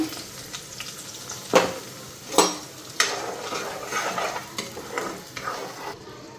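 Spices sizzle and fry in a pan while a utensil stirs and scrapes, with a few sharper clanks of metal against the pan.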